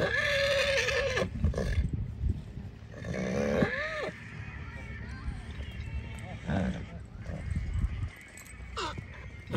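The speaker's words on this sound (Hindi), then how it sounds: "इस एम्बुलेंस के अंदर ये शानदार एटीट्यूड वाला एक घोड़ा निकल कर आया है।" A horse just out of a horse ambulance at a horse show in Jodhpur whinnies in a rising and falling call amid people talking and background commotion, with another shorter neigh later.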